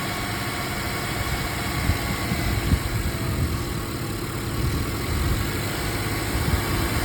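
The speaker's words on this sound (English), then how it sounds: "you'll hear the engine kind of die down just a little bit from time to time as it sucks it through" A car engine idles steadily at close range while Seafoam treatment is drawn through its induction system, a low, even rumble with slight dips and wavers in tone and no voices over it.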